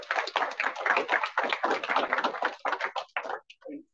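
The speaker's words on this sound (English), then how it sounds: "Can we have a round of applause for our panelists?" Audience applause for panelists at an event: a dense burst of close hand clapping that thins out and fades over a few seconds.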